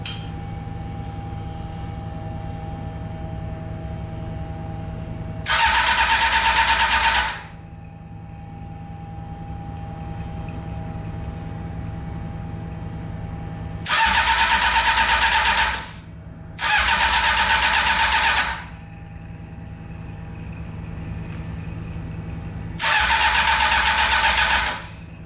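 A Honda CBR600 motorcycle engine fitted in a swapped kart cranks in several loud bursts, about four separate attempts of one to two seconds each, with a steady background hum between them and no one talking.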